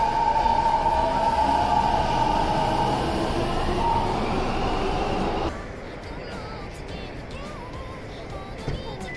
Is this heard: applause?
no